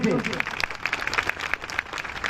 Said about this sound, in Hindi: ओम प्रकाश जी रघुवंशी एक बार जोरदार तालियों से